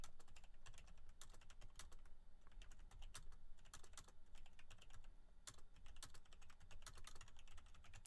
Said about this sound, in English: Don't let my typing distract anyone.